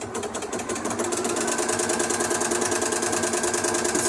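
A Janome Flower Stitcher sewing machine stitches a blind hem with a rapid, even mechanical clatter, close and steady throughout.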